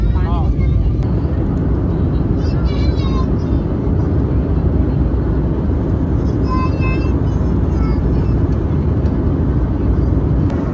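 A steady, loud roar of an airplane in flight fills the clip, with faint chirps above it and people talking underneath.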